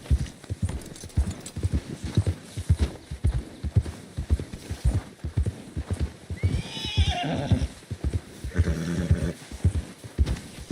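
Horse hooves clip-clop in steady rhythm through Red Dead Redemption 2 gameplay on a mountain, close and continuous, with a horse whinnying partway through over shifting game ambience.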